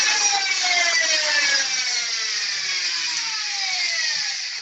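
The flywheels of a semi-auto Nerf blaster rev at close range with a steady, high, whirring motor tone that slowly drops in pitch as it spins down.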